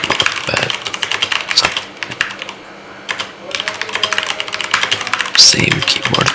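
Typing on an Akko tenkeyless mechanical keyboard with white-on-black keycaps and tactile switches, close-up bursts of clicky keystrokes with a brief pause midway, while a person talks over the clatter.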